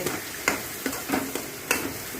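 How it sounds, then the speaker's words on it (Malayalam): Two eggs fry in a pan with softened onion and tomato, a low sizzle broken by several sharp scrapes and knocks of a spatula stirring, heard close up with no talking. "ഉള്ളിയും തക്കാളിയൊക്കെ ഇങ്ങനെ ഏകദേശം വാടിയതിന് ശേഷം അതിലേക്ക് 2 മുട്ട പൊട്ടിച്ച് ഇട്ട് കൊടുക്കുക."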